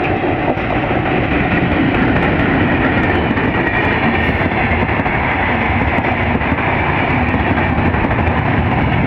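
The Madhumati Express pulls out of Dhaka bound for Rajshahi, a loud, continuous rumble and rattle of rolling wagons with no voices.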